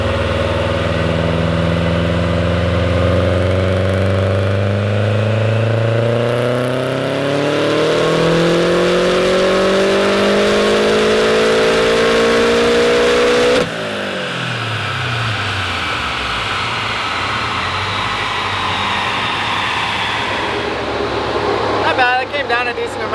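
A tuned Subaru WRX STI engine revs on a dyno, pitch climbing smoothly to a high peak, then drops off and settles back, loud and close throughout.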